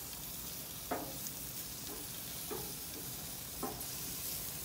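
Corn sizzling steadily on a very hot Hestan grill set to low, a continuous close frying hiss broken by a few soft scraping stirs as the cobs are turned.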